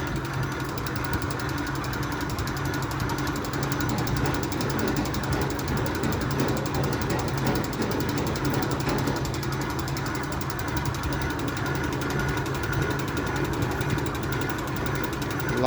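Motor winch raising rows of poultry feeders inside a 120-metre chicken barn, a steady mechanical grinding and ratcheting drone that runs without pause throughout, with no talking.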